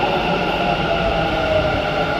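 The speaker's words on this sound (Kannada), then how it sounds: "ಅದು ಮೆಟ್ರೋ, ಬೆಂಗಳೂರು ಮೆಟ್ರೋ" A Bengaluru metro train running past, a steady rumbling hum with faint tonal whine held evenly throughout, close and continuous, with no talking.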